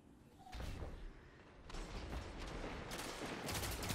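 Gunfire from a pulse rifle in the video game Destiny 2, a dense run of sharp shots and impacts that builds from about half a second and stays loud and busy through the end, with louder bursts toward the close.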